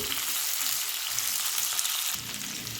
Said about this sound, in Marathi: अद्रक लसणचे तुकडे मिरची आणि कांदा हे व्यवस्थित आपण फ्राय करून घेऊ